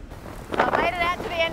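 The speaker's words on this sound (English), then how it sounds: "as you can see, it's pretty darn windy. That's a kind of an epic northeasterly coming through." A strong northeasterly wind sweeps a remote Australian beach island, buffeting the microphone in rough gusts while someone talks over the roar.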